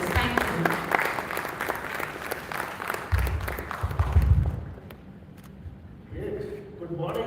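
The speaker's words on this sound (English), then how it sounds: "Can we welcome Mr. Vikram with huge round of applause" A Bangalore audience at an AI and analytics summit gives a stage guest a big round of applause, steady and dense for several seconds before thinning out and fading, with voices at the edges.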